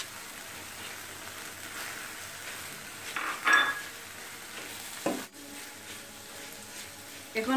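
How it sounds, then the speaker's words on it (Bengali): Beaten eggs go into a pan of cooking Malabar spinach, giving a soft steady sizzle with a few spoon scrapes and clinks against the pan. "এখন আমি জুড়ি করা ডিম পুঁইশাকের মধ্যে দিয়ে দিব।"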